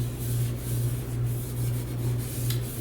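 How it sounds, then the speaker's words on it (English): Hands rub cooking oil into a clay pot before beef ribs go in, a steady soft scrubbing close by over a low constant hum, with no talking. "we're gonna go ahead and get a little oil in here just to help for the cleaning afterwards. And we're gonna rub it here"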